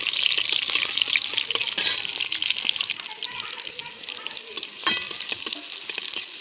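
Garlic and nigella seeds frying in hot oil in a pan, giving a bright, steady crackling sizzle with a few louder spits and stirring clatters, close and continuous, with faint talk in the background.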